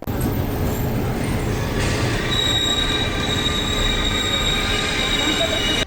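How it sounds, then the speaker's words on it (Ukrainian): An evacuation train pulls into a railway station in Lviv, with a loud continuous rumble, wheel squeal and a long high metallic screech of braking close by. "Потяг прибуває."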